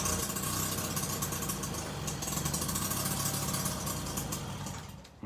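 A Motobecane moped engine runs unevenly just above idle, a close, buzzy, rapid putter holding steady before fading slightly at the end.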